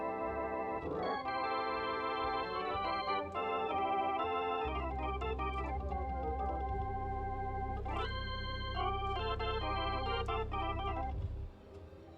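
A sustained drawbar organ chord sequence on a Casio XW synthesizer with swirling Leslie rotary-speaker vibrato, a deep bass pedal entering midway, playing steadily without any voices.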